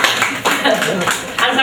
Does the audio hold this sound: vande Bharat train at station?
no